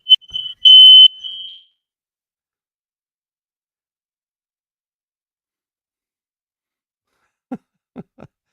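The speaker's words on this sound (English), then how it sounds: "the fire alarm go off when the oven has been in use in the other room" A short, piercing smoke alarm beep, then long silence before a few soft coughs or throat sounds.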